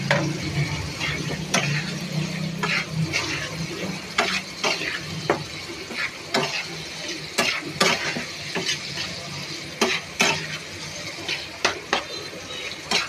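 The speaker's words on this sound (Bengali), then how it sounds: "মশলাটা কষাই নিচ্ছি অনেকক্ষণ কষায়া" Spice paste frying for a sarputi fish curry, a steady sizzle in a pan with repeated scrapes and clinks of a stirring spoon close by.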